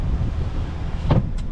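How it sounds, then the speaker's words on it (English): A car's electric power windows whir briefly as they move, with a short motor burst near the end over a steady idling hum inside the vehicle. "All the windows seem to work"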